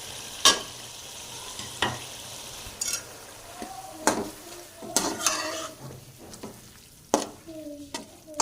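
A spoon stirs spices, black pepper, red chili and salt, into chicken keema frying in a pot for keema pulao. Sharp metallic scrapes and clinks come every second or so over a soft, steady sizzle.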